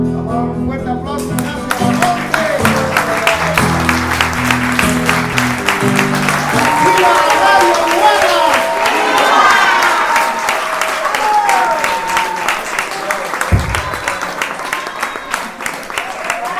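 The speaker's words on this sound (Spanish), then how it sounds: "Un fuerte aplauso" A crowd breaks into loud applause and cheering after a recited verse, continuous clapping with whoops and shouted voices on top, music fading underneath at the start.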